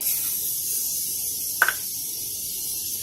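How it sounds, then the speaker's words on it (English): A single short hiss of olive oil cooking spray onto a pan, quick and close, against quiet background. "I'm going to spray the pan with some olive oil"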